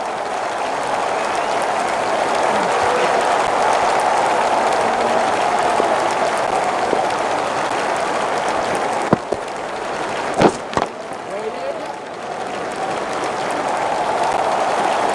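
In the Don Bradman Cricket video game, a stadium crowd applauds loudly and without a break, a dense roar of clapping that carries on for about fifteen seconds, broken only by a few brief sharp knocks near the end.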